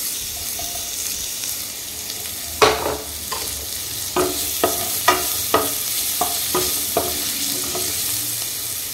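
Sliced onion and crushed garlic sizzle in a pot for chicken soup, a constant frying hiss broken by a run of close, sharp clacks and scrapes from a spoon stirring against the metal, with no voices.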